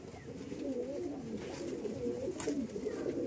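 Madras pigeons coo softly nearby in a low, continuous murmur, heard alone at low volume.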